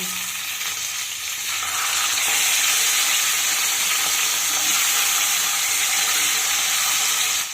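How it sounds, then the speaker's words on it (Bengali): Pieces of pomfret fish fry in hot oil in a pan, cooked two at a time, with a loud, continuous hiss and sizzle that builds after the first second and holds steady throughout. "এখানে আমি দুটো দুটো করে মাছ ভেজে নেব"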